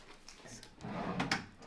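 A dresser drawer in a Drury Plaza Hotel suite near Disney Springs slides and thumps shut, a single close, quiet wooden slide ending in a soft knock.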